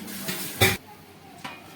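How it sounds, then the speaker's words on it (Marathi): Washed dishes set onto a kitchen rack make one sharp metallic clatter, followed by two lighter knocks, close by in a quiet room. "लगेच भांडी जे आहे ते रॅकला लावून घेते"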